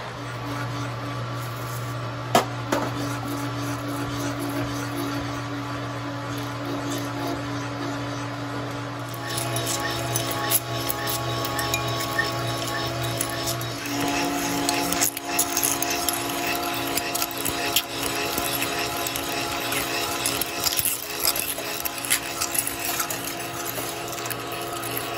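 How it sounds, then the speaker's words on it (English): A power drill runs continuously with a steady whine, its grinding intensifying partway through as the blade bites and cuts a 2-inch hole, with no talking. "We're ready to drill that 2-inch hole."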